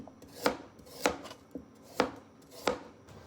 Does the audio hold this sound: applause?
no